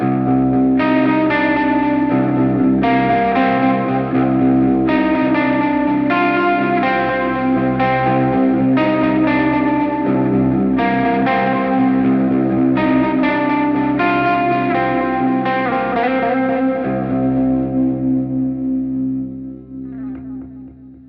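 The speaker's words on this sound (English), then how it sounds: "I do have a delay in front of a drive pedal to get some big, thick ambient stuff" Electric guitar played through a Mooer mini-modeller with a delay feeding a drive pedal, giving a big, thick ambient tone: loud sustained distorted chords with echoing repeats that swell and overlap, then decay into a fading tail at the end.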